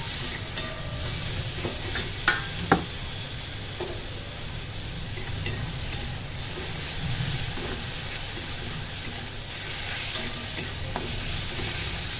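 Spices and sour local tomatoes sizzle and fry in a pan with a green chilli curry, a steady close hiss with a few sharp clinks of a spoon against the pan and no voices.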